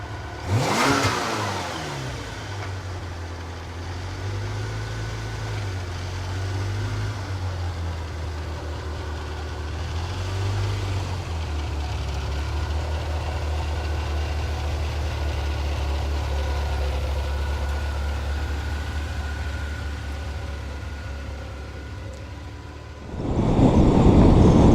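A Ferrari 348 engine idles and revs up close, with a strong throaty low rumble that rises and falls through several blips before settling into a steady idle, then a louder burst at the end.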